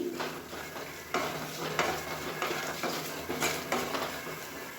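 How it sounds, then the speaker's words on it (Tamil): Grated coconut fries in oil in a pan while a spoon stirs and scrapes against the metal in repeated strokes. A light sizzle runs underneath, close and fairly loud, with no talking. "அப்படியே பொரிஞ்சு வருது பாருங்கள் தேங்காய் வந்து அந்த எண்ணெயில்."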